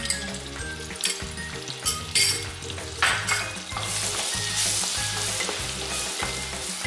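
Ground garlic hits melted butter in a pan for pav bhaji and sizzles loudly and steadily, with a few utensil clinks at the start and background music playing throughout.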